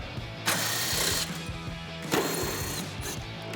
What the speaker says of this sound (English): We'll grab our 10 mil socket and pop those out.